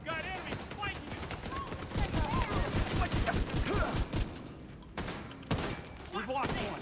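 Rapid turret gunfire in a video game, loud bursts of repeated shots in rolling volleys with brief pauses, mixed with game voices and a player talking.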